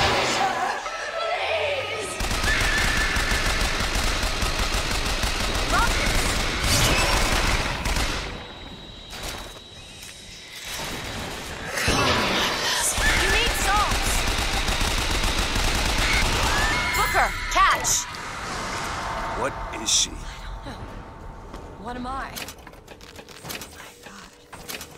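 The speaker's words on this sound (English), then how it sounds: "Can you all stop shooting me?" Enemies fire at the player in BioShock Infinite in loud, rapid bursts and volleys that come in clustered waves with short quieter gaps, mixed with clattering combat noise at close range.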